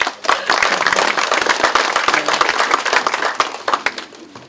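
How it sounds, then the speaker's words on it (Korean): Audience applause at a Democratic Party lawmakers' caucus meeting, loud, sharp clapping from many hands in a close room, steady and sustained before tapering off at the end. "감사의 박수를 크게 한번 보내주십시오"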